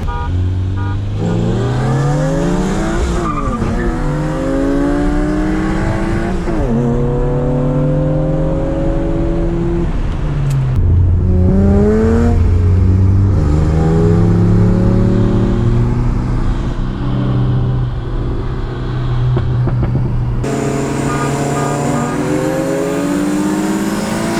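A BMW E36 M3 races a turbocharged VW Golf 1.8T with a K04 turbo, engines revving hard and climbing through the gears in repeated rising sweeps, with gear-change breaks and a loud, close drone throughout and no talking.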